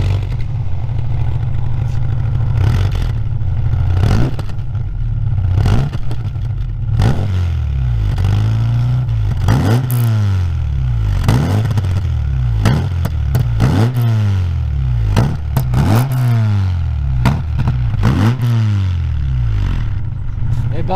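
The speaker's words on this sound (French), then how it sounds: "il va nous démarrer la voiture, on va l'écouter tous ensemble" A 1997 Volkswagen Golf Mk3 cabriolet engine idles and is revved again and again. Repeated rising and falling blips come about every second or two, close and loud, over a steady low drone.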